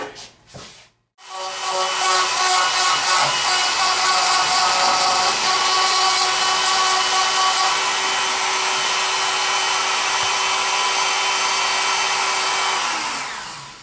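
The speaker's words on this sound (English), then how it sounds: "I just got a little Dremel with the flex shaft" A small Dremel rotary tool with a flex shaft, carving a wooden ginseng cane, whines steadily at high speed for over ten seconds, a constant buzzing hiss with slight pitch shifts, then winds down.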